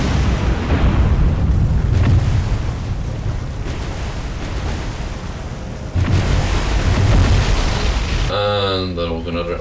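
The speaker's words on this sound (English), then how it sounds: "there was another magazine explosion that provided nice spotting bonus" A ship's magazine explodes in the War on the Sea naval game during an Atlantic battle off the Azores, a long, loud, rumbling boom with roaring wash that swells again midway, followed by a brief garbled tone at the end.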